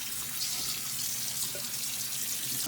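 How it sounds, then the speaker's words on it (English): Cool water runs steadily from a tap, a soft continuous hiss that stays close and even throughout with no voices over it. "we'll run some cool water over that"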